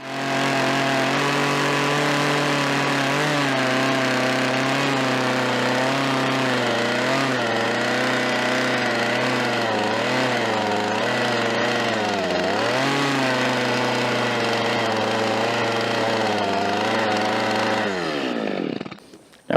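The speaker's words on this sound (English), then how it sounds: "I can take my little saw with the carving bar and I can reshape that just a little bit" A small chainsaw fitted with a carving bar reshapes a log for a log cabin wall, its engine holding a steady loud whine with slight rises and dips in pitch, then cutting off abruptly at the end.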